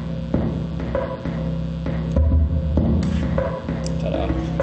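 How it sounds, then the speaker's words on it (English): A steady electronic drum pattern loops with regular thumping kicks and clicky hits over a low droning hum, fairly loud and continuous. "Here's me making a drum sequencer."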